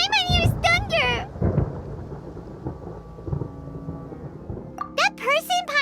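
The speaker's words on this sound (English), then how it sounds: "Paimon hears thunder!" Thunder rumbles low and steady in the Genshin Impact game world with a rain-like wash, while a high child-like voice talks over it at the start and end.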